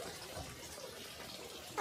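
Steady running water pours from a public drinking fountain in Switzerland fed by clean spring water, a continuous faint splashing hiss throughout with no talk.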